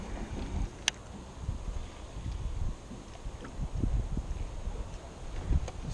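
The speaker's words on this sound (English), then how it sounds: "This wind is killing us." Wind buffets the microphone in low, uneven gusts on a fishing boat out on a lake in northern Wisconsin, with faint rustling and a couple of brief clicks; no one talks.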